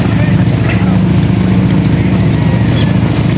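An arriving fishing boat's motor drones steadily and loudly up close, a low rumbling hum with wind and water noise, and voices faintly mixed in.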